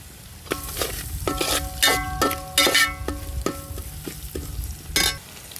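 Beef fries in a pan with curry leaves while a metal spoon stirs it, a close, steady sizzle broken by repeated ringing scrapes and clinks against the pan; nobody talks.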